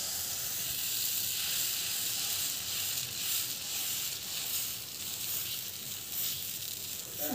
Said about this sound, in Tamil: பேன் வந்து நல்லா காஞ்சி பிறகு நம்ம வந்து பார்த்திங்கன்னா தோசை வந்து போட போகிறோம்